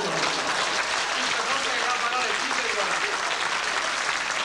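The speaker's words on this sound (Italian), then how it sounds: "Se dovevi fare l'applauso, fatelo." Full, continuous applause from a comedy show audience, loud and dense throughout, with voices faintly audible beneath the clapping.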